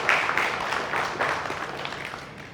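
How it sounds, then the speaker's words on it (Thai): Applause for both families at an engagement ceremony at Gaysorn Urban Resort, a moderate ripple of hand clapping that starts strong and slowly fades, with no speech over it. "ก็ขอเสียงปรบมือดังๆ ให้ กับทั้งสอง ครอบครัวอีกครั้งหนึ่งค่ะ"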